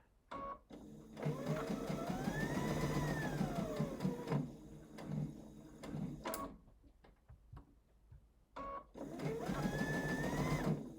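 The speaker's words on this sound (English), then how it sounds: "So we're going to stitch down that line and take out the pins as we go." A sewing machine stitches down quilt binding in steady whirring bursts, stopping briefly twice, with a close, clear motor hum and needle chatter.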